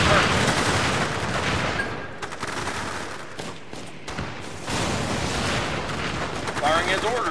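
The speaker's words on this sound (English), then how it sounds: "Weapons engaged. Firing on the enemy, sir." Dense gunfire and explosions from Battle Battalions battle gameplay, a loud continuous barrage of overlapping shots and blasts with brief dips, under short game voice lines.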